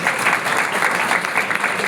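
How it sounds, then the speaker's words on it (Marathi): Sustained applause from a college audience at an elocution competition, dense and steady throughout with many hands clapping together in a hall. "सगळ्यात पहिले तर खूप जोरात टाळ्या वाजवा स्वतःसाठी."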